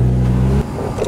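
Ford Fiesta Redline Edition engine with a custom carbon build, idling loudly with a steady low rumble that cuts off abruptly partway through, leaving quieter background noise.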